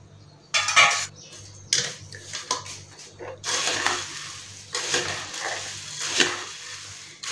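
Fried potatoes, peanuts and puffed rice are tossed together for a chivda snack, giving close rustling, crunchy scrapes in several separate bursts with brief pauses between the stirs.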